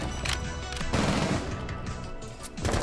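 Rapid automatic gunfire in a first-person shooter game, loud and close, bursts stuttering across the clip with brief gaps and a final burst at the end, no talking.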